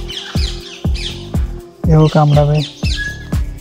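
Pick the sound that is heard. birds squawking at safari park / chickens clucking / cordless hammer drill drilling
birds squawking at safari park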